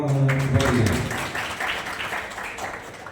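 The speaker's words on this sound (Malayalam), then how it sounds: "ഒരു നല്ല കൈയടി അദ്ദേഹത്തിന് കൊടുക്കണമെന്ന്" Audience applause for a trainer at an iftar gathering, a broad wash of clapping that swells and then tapers off, with a voice briefly audible at the start.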